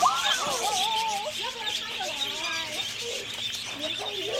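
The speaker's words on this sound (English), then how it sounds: "There are so many birds." Many parakeets chirp and call close by in varied, overlapping tweets and squawks, with a faint steady hum underneath.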